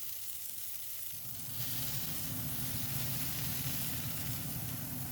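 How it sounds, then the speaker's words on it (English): A burger patty sizzles steadily in a hot, lightly oiled pan, the crackling frying getting louder partway through and then holding at a dense, even hiss close by. "heat the pan again, little bit of oil, patty in"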